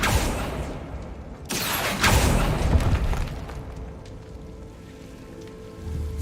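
A Confringo blasting spell explodes in Hogwarts Legacy as a sudden loud boom and crackling burst midway, fading over a steady rain-like hiss of background noise.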